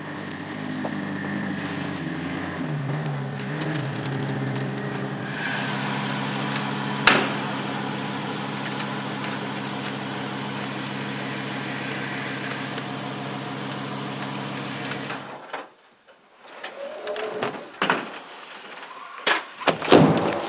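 A truck engine idles steadily with a low, even rumble for about fifteen seconds, then cuts off, leaving a few scattered clicks and knocks nearby.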